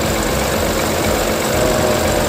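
Geely Okavango Urban with a 1.5 turbo engine idling under the open hood, a steady close hum with a faint rattle, constant and loud with no talk.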